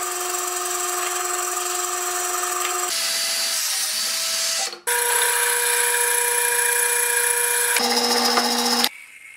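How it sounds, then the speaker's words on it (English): A power drill bores a half-inch bolt hole, whining at a steady high pitch in long bursts, with a brief pause and change of speed between passes, loud and close with no talking. "Then I will drill 1/2-inch hole for our bolt to fit nicely"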